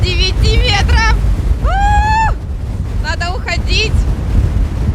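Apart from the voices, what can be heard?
hurricane-force wind at Gelendzhik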